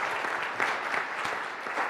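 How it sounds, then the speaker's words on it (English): An audience at a panel event applauds in a short, dense burst of clapping that stays at an even level throughout. "Clap it up, everyone."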